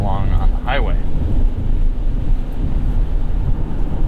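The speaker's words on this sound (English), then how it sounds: "you can kind of hear how quiet this thing is going along on the highway" Cabin of a 2021 Toyota Sienna minivan cruising on a dry highway: a steady low road and wind rumble fills the space, with a brief voice near the start over the constant hum.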